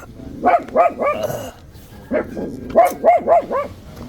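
Several dogs bark near a campsite at a farm at the foot of Mt. Banahaw, in two bursts of quick, loud, close woofs with a short pause between them.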